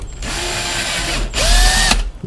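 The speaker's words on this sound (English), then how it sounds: "I use a drill motor." An electric drill motor whines in two close bursts, rising in pitch as it spins up and stopping sharply, boring holes near wall switches, loud and near with no talking.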